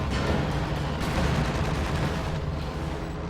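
Artillery fire from a 152mm gun shelling Fox Grenadiers in Company of Heroes 2, a dense continuous rumble of heavy booms and battle noise with no clear separate shots.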